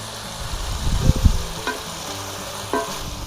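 Hot beef stir-fry pan deglazed with rice wine, with soft stirring and sizzling and a few clattering utensil knocks near the middle.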